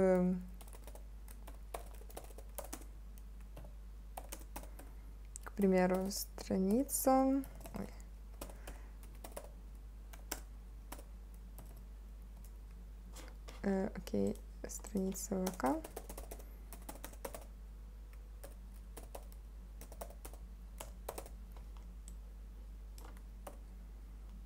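Clicks from a computer keyboard while someone sets up VK (VKontakte) settings: scattered keystrokes and short typing runs go on throughout, fairly close, with a person speaking now and then over them.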